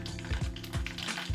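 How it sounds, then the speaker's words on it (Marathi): Mustard seeds and cumin crackle in hot oil as tempering for an appe snack, with soft scattered pops and light kitchen clatter heard close and alone, fairly quiet over about a second. "मोहरी ही तडतडायला लागली आणि जो जिरे होते ते पण असे मस्तपैकी फुलले गेलेले आहेत"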